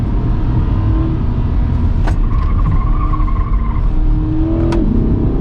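Chevrolet Corvette C8 thrown hard into a street turn, a loud close engine and road roar with two brief tire squeals cutting through, one early and one near the end.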